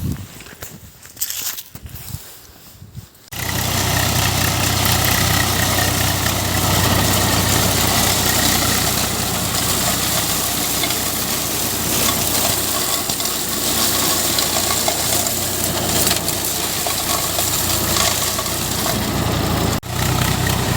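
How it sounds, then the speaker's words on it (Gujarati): Swaraj 744 XM tractor running in a field, its engine settling into a loud, steady mid-pitched drone after a few seconds of quieter clatter, continuing unbroken to the end. "આ રીતે ટ્રેક્ટર ચાલે છે સૌરા સાતસો ચુમ્માળીસ એકસેમ મોડલ ટ્રેક્ટર છે"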